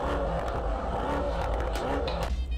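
A Mercedes-AMG GT63s V8 engine revs with a deep, throaty roar and crackling harmonics, close and loud, rising and settling over a couple of seconds.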